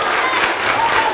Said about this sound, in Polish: Wojciecha Stopę, którego gromkimi oklaskami pożegnali uczniowie